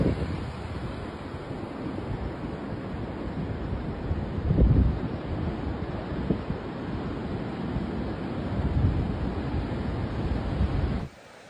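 Powerful wind from Typhoon Krathon roars over Kaohsiung, Taiwan, in a steady buffeting rush with a couple of stronger surges, then cuts off abruptly at the end.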